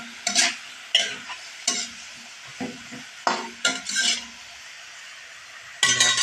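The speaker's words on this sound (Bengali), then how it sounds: "এবারে আমি কাঁঠালের এঁচড়ের তরকারিগুলো দিয়ে দিলাম। দিয়ে দেওয়া হয়ে গেলে আমি এভাবে নাড়াচাড়া দিয়ে ঢাকনা দিয়ে ঢেকে দেব।" Pieces of unripe jackfruit are stirred in hot oil in a pan for a curry, a series of close scraping stirs with light sizzling and occasional clinks, no speech.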